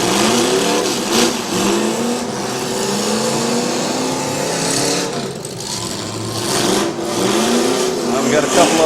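Demolition derby cars at a Portage County fair arena, engines roaring and revving continuously with grinding metal at a distance, loud and sustained with crowd noise mixed in.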